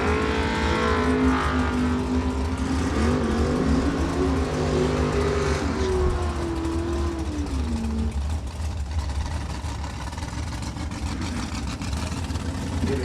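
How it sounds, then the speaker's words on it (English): Corvette Roadster race car revving and accelerating at a drag strip, a loud engine note climbing and shifting in pitch before fading into crowd and ambient noise. "Corvette Roadster."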